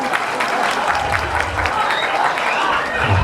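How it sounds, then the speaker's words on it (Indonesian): Audience applause at a lively Javanese gamelan comedy show, a dense steady wash of clapping with crowd noise and a voice calling out over it. "sangar merdu siam tepuk tangan dulu"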